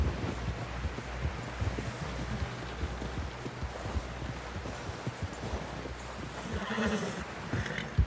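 Horse in Red Dead Redemption 2 snorting and clopping amid steady wind noise, with a low rumbling bed throughout and a brief louder stir near the end.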